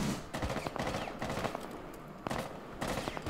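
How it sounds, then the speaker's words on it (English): Rapid bursts of automatic gunfire from a Rainbow Six Siege firefight fill the clip, dense and continuous with short gaps, loud and close, with no talk over them. "we're getting shot from behind"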